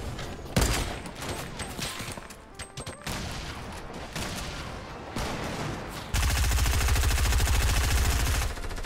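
Rapid gunfire bursts and single shots in the Fortnite video game, loud and dense through the whole stretch, with a heavy sustained barrage near the end.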